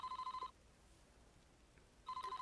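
An electronic telephone ring from the Famicom Detective Club game sounds as a rapid warbling trill, two short bursts separated by a pause of silence, clean and fairly loud with no voices.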